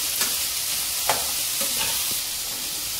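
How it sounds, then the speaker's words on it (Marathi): Vegetables and rice frying in a hot pan, a continuous close sizzle with a few stirring scrapes and clinks, no talking. "आता छानसं फ्राय होऊ देते."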